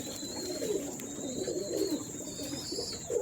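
Golden pigeons coo in a loft, a series of soft, rolling low coos repeating every half second or so over a steady background hum, fairly close but not loud.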